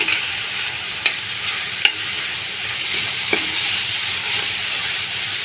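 Ginger-garlic paste frying in a pan for a Kuwaiti-style rice dish gives a steady close sizzle and hiss, with a few sharp stirring clicks and no talking.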